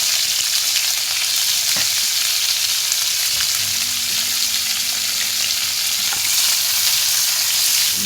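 Onion, green chili, cashew, garlic and ginger frying in a pan for butter chicken, giving a loud, continuous close sizzle with occasional faint stirring clinks and no talking.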